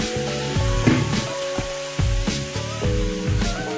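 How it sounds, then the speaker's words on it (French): Steady sizzling and crackling as hen pieces fry in a pot for a tomato sauce, with a few knocks of a utensil against the pan over a constant hiss. "j'ajoute ma poule dans la casserole"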